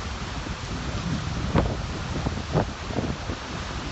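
Hurricane Irma's winds, gusting to about 125 mph near Marco Island, roar steadily as broadband rushing noise with several sharp gusts or impacts cutting through, loud and close to the microphone, with no voices.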